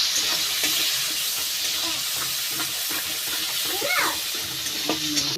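Ground ginger and cumin paste hitting tomatoes frying in a pan gives a steady close sizzle with light stirring and scraping, and a voice speaks partway through.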